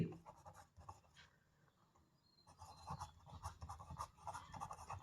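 A math solution is written out by hand, with faint, close pen strokes scratching in short bursts and brief pauses between them, alone without speech.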